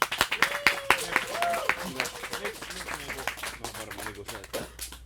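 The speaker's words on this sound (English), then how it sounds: "Minor round of applause for Alish, please." Brief, scattered applause from an audience at a car club awards gathering, uneven and fairly light, mixed with talk and laughter around it.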